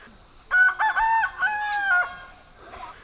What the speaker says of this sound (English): the roosters woke me up